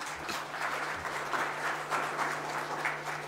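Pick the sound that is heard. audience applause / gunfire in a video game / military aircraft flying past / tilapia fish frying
audience applause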